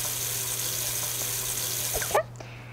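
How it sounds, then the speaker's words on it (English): A bathroom tap runs continuously while hands are washed at a sink, with a steady hiss and a faint hum, then the flow is shut off abruptly near the end. "wash my hands"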